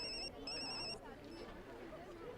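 A telephone rings in two quick electronic trills, then stops as background chatter continues faintly.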